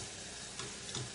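Food sizzles faintly and steadily in a pan, with soft scraping and tapping as it is flipped. The sound is quiet and close, with no talking.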